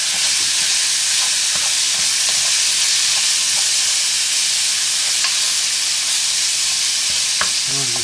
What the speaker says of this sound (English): Now we want to get this meat cooked down in there.